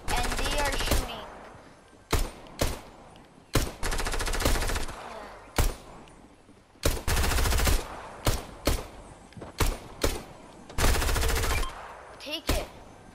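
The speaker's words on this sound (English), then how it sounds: "Somebody's in here with me, and they are shooting." Fortnite gunfire, loud bursts of rapid game shots broken by short gaps, some single cracks and longer sprays, with a player talking between and over them.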